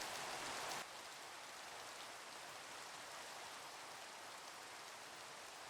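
Soft, steady rainfall in Minecraft, a gentle continuous patter with a slightly louder burst at the very start.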